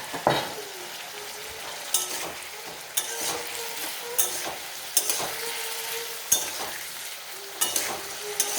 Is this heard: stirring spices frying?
yes